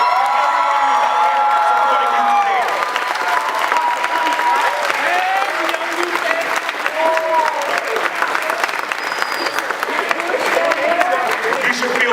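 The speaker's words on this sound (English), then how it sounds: "give them the biggest round of applause" A graduation ceremony audience gives a loud, sustained round of applause mixed with cheering and whoops, filling the hall continuously, with voices shouting through it.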